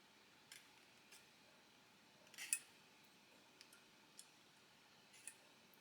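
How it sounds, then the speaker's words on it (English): A small hand saw cuts a plastic part from an Airfix new-tool 1/72 Vulcan model kit, giving a few faint, scattered rasping strokes and soft clicks against a very quiet room. "I'm just stroking the plastic with the saw."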